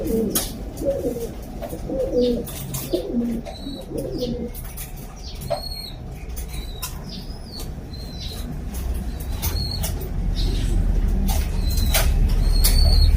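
Breeder pigeons in a loft give several soft, low coos near the start, then a few brief chirps and wing flaps over a steady, rising background rumble.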